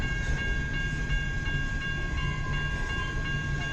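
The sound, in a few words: CN B731 westbound grain train passing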